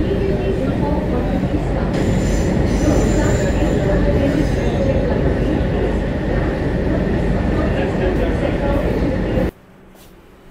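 A Kolkata metro train running into Noapara station, a loud, continuous rumble of wheels on rail with a high squeal above it, close and sustained, ending abruptly as the noise cuts away.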